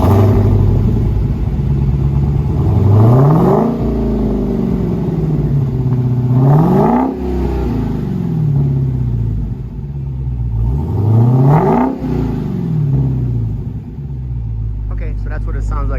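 A supercharged 2020 Dodge Challenger SRT Scat Pack on its stock exhaust idles with a deep, steady rumble and is revved three times, each rev swelling and falling back, loud and close.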